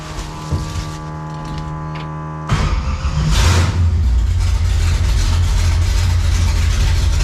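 A 1955 Chevy engine in neutral cranks over with a whine, then catches and settles into a loud, rough rumbling idle, close by.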